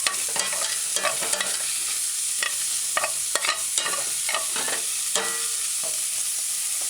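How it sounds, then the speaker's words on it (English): Salted codfish sautéing with mashed garlic, diced onion and scallion in a pan, a steady close sizzle broken by repeated scraping stirs, with no voices. "Allow it to saute for a few seconds."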